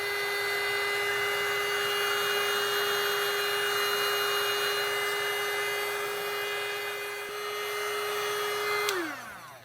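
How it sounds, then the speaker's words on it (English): A heat gun blows a steady, close whirring hum over thick poured resin, its tone holding constant for several seconds before it is switched off and winds down near the end. "Let me see if the heat gun's going to work real quick."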